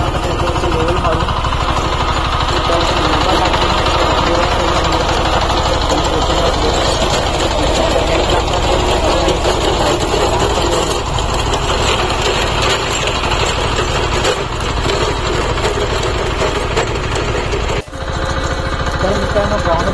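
A tractor digging up soil to prepare a cricket ground runs continuously nearby with a loud, rough, knocking engine drone that holds steady the whole time and dips briefly near the end.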